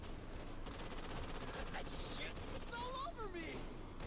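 Rapid machine-gun fire in the zombie shooter Back 4 Blood, dense repeated shots running through the clip beneath a continuous wash of game noise, with a voice talking over it.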